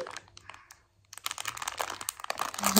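A child plays with a toy wrapped in crinkly plastic indoors, giving close, irregular crinkling and crunching rustles that stop briefly and then return denser and louder.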